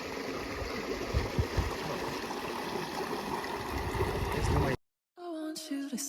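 A nature reserve stream in Johannesburg, South Africa runs with a steady, close rushing wash for about five seconds, then cuts off abruptly; after a brief gap, faint talking and other sounds follow.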